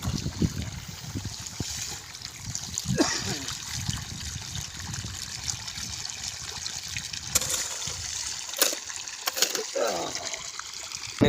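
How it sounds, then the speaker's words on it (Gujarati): Irrigation water trickles and flows steadily into a farm field channel, a continuous close splashing wash with a few sharper gurgles near the end and faint voices now and then. "જો પાણી આવે છે હવે।"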